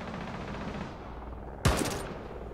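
A sudden sharp gunshot in Rainbow Six Siege cuts through a low continuous game ambience, one loud crack with a short ringing tail that fades out over about half a second.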